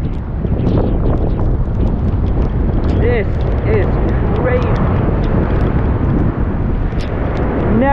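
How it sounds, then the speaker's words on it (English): Strong ocean waves pound during a typhoon in the Philippines, a heavy continuous roar mixed with gusting wind buffeting the microphone, while a voice speaks briefly over it. "Never seen the waves like this before here."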